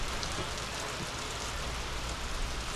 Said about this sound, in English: But as you see see it raining.